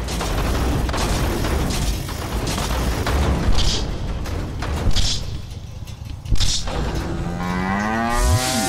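A cow lowing in the Deadpool video game, a long deep moo under dense game noise, with booming mechanical clanks and a rising whine near the end.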